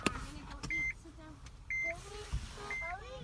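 Repeated electronic beeps from a 2014 Honda Odyssey EX-L that won't start, sounding when the push-start button is pressed; three steady tones, each under a second, close and clear over faint cabin hum.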